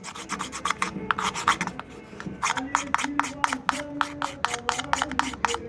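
A metal scraper rasps along a mey reed in quick, repeated strokes, close and crisp, with short scratchy bursts coming in an uneven rhythm against a quiet background.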